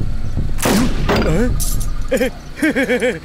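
Gunfire in a Bengali-dubbed South Indian action thriller film: two sharp, loud shots in quick succession, with voices speaking around and after them.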